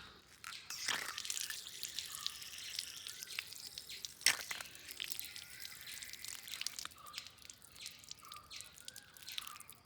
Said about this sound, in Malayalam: അങ്ങനെ ഞാൻ പിന്നെ അതൊന്ന് കഴുകി എടുക്കുന്നുണ്ട്.